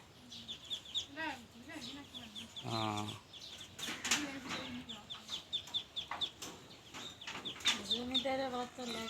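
Young duck hatchlings peep in a cluster, with bursts of high chirps and soft calls nearby, along with some clucking and wing flutters. Voices talk at times.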